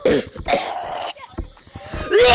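A person coughs in a video game of tag, with harsh, forceful bursts repeated several times over a couple of seconds, loud and close to the microphone, with brief vocal sounds in between.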